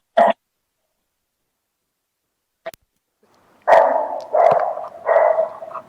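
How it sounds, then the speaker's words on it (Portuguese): A dog barks indoors, first one sharp yap and a faint one, then three loud, close barks in quick succession, with no talk over them. "é porque tá um som aí de cachorro"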